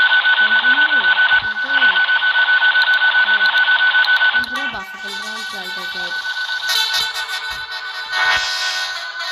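Bus horn signals in a bus-driving video game, sustained electronic-sounding blasts that repeat and overlap, loud and close, with someone talking over them.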